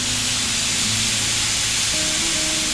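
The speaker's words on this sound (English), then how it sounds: "that steam's going to escape" Steam rushes out of a pressure canner holding green beans once the weight is lifted, a loud, continuous close-up hiss that holds steady throughout with faint tonal whistling underneath.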